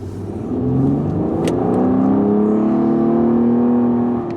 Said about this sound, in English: give this bad boy a little bit of gas and see what Nissan's done with their flagship car